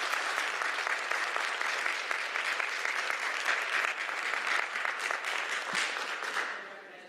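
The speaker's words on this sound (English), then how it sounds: "I did not know I get applause after that." Applause breaks out in an Atlanta City Council work session on short-term rentals, a full, steady wash of clapping from the room that holds for several seconds before tapering off at the end.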